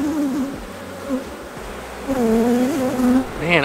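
Honey bees buzz steadily and close during a hive inspection by a Minnesota beekeeper, with rising and falling wingbeat tones that swell louder in the second half and a brief higher-pitched whine near the end.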